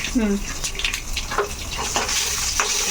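Oil sizzling as dried red chilies and garlic fry in a tempering, a steady crackling hiss with a few stirring scrapes, while a voice speaks briefly over it.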